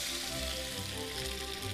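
Marinated beef strips hitting hot oil in a wok give a loud, steady sizzle and crackle that holds without a break.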